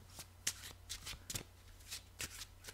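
Tarot cards are shuffled and drawn from a deck in a series of quick, close riffling and flicking bursts at an irregular rhythm, with no talk.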